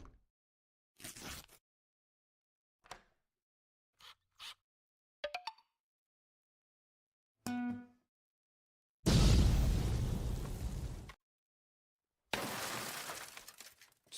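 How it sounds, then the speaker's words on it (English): Broken glass shattering effects auditioned for a video game, several short clinks and cracks followed by two long, loud crashing bursts of breaking glass with scattered debris, no talk. "Just broken glass."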